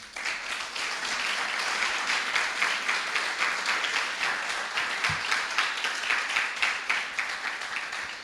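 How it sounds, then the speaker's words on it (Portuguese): A church congregation applauds during a sermon, a dense sustained wash of many hands clapping at steady volume, slightly distant in a large room, with no talk over it. "Eu quero um aplauso ao Senhor."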